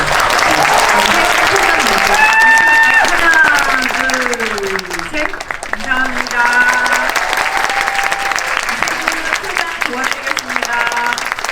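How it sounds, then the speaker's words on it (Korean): Audience applause for three departing guests at a crime-film movie talk event, steady clapping filling the room while a voice carries over it. "세 분이 퇴장하시는 동안도 영화 잘 되라고 응원의 박수"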